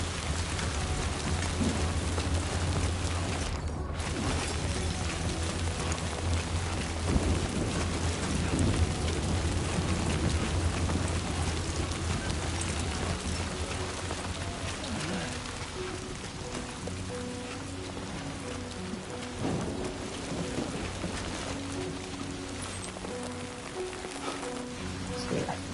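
Rain and thunder in the video game Death Stranding 2: a constant heavy downpour hisses throughout, with low rumbles rolling beneath and faint speech mixed in.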